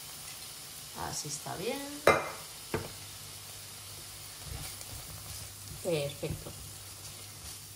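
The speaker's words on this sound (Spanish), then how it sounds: "Y a fuego medio vamos dejando que poche todas las verduras" Onions and other vegetables fry in oil in a pan over medium heat, giving a soft, steady sizzle. Occasional stirring scrapes come through, and a person speaks briefly over the cooking.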